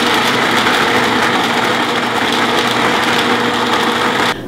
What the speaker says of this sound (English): Blender does a great job.